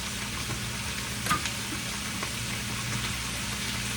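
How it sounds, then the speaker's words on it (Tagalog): Coconut milk stirred into a simmering green papaya dish with dried fish: a steady, even sizzle and bubbling hiss with a faint utensil scrape or two, close and continuous. "Ito mga kababayan, halo ko na yung gata."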